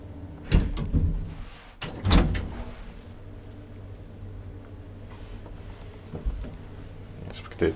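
An old Valmet-Schlieren traction elevator's sliding doors give a few sharp thuds and rattling slides, close and clear, followed by a quieter hum, with faint talk in the background.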